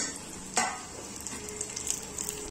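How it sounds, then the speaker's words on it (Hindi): Halved, pitted dates roasting in a pan give a steady soft sizzle and crackle throughout, with a brief louder scrape or stir partway through and no talking. "इनको हमने हाफ हाफ में कट कर लिए किसी में भी आप देखेंगे बीज नहीं है और इनको हम अब इसमें भून"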